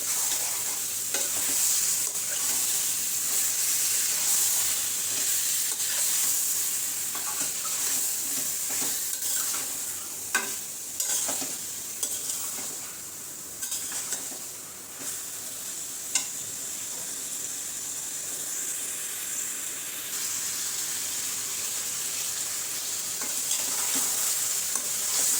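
Duck meat sizzling in a pan on a gas stove while being stirred, a continuous close frying hiss with scattered scraping and clinking of the spoon, no voices.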